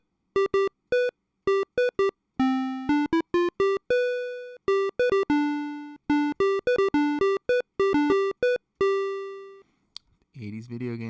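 An '80s-style video game synth line from Wavetable, pitched up, plays a quick melody of short beeping square-wave notes mixed with a few longer held tones, loud and clean, before a voice briefly speaks at the end.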